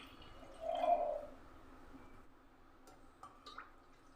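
Masoor dal lentils tipped into water in a cooking pot give a brief, soft splash and pour near the start, followed by quiet room tone with a few faint clinks.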